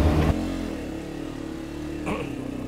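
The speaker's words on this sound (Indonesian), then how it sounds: "Dan inilah motor saya." A motorcycle engine idles with a steady low throb, then revs briefly as the rider sets off on a touring ride under overcast skies; close and fairly loud with no talk.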